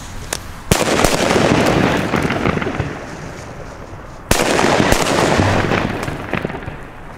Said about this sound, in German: Jetzt die Funke Superböller 1.